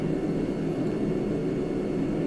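A JF-17 jet flying on autopilot in the DCS combat flight game gives off a steady, smooth low roar of cockpit and engine noise, constant and even with no speech.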